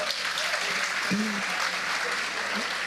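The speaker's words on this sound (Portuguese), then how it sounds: "Dá uma salva de palmas para esse povo abençoar" Church congregation applauding, a steady wash of many hands clapping at moderate distance, with a few faint voices and cheers rising briefly beneath it.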